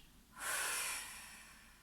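A single long, forceful exhale through the mouth during a yoga session, a breathy rush that starts abruptly, holds, then fades away, close and alone.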